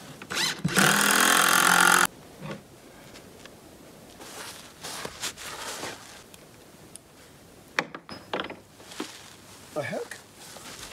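A power drill drives a 3.5 inch screw into wood in one loud, sustained two-second whine, followed by quieter handling noises, footsteps and someone talking during an off-grid cabin build.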